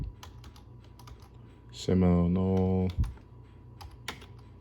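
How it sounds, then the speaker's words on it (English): Light, scattered clicks of typing on a computer keyboard run throughout at close range, interrupted midway by a short voiced sound. "Let's type in Seminole Indians of Florida"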